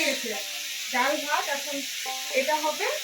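Potatoes frying in a pan in a village home kitchen give a steady, hissing sizzle that runs under a voice talking throughout.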